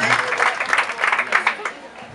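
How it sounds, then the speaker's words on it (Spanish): Applause at a Red Cross section ceremony in Coatepeque, a lively burst of clapping that rises and falls with scattered chatter mixed in, fading toward the end. "así que démosle un caluroso aplauso."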